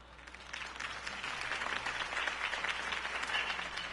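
A crowd at a political campaign rally applauds in the Batman Telltale video game, a moderate steady wash of clapping that builds slightly and holds for several seconds.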